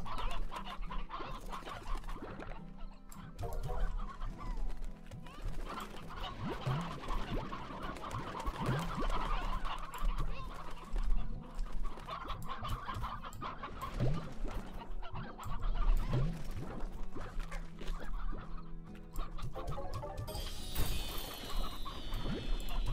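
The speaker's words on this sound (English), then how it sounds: "send Bob his chickens" Chickens clucking in the Slime Rancher game, a steady busy flock of fowl calls and squawks layered over background game music and ambience, with a brief chime near the end.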